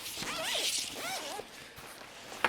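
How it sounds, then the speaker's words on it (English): A zipper on an Incase A.R.C. Travel Pack backpack is pulled open in a couple of quick, rasping strokes up close, then a brief pause and a small thump of handling at the end. "Grab the wrong zipper."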